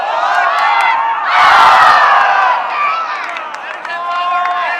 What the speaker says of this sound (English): So our crowd getting involved in all the action here in Salt Lake City.